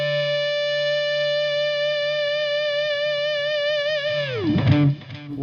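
Electric guitar played through a Xotic overdrive pedal, a sustained harmonically rich chord ringing steadily and loudly for about four seconds before a pitch-diving swoop and a short noisy burst at the end.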